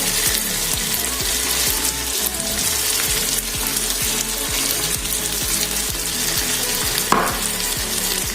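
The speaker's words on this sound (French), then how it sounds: "j'ai donc mis les tomates et je vais laisser bien mijoter aussi. Là, maintenant, je vais ajouter le poireau" Tomatoes and leek simmering and sizzling in a pan, with a steady crackling fry and rhythmic stirring scrapes throughout, close and fairly loud, plus a brief clatter near the end and no talk.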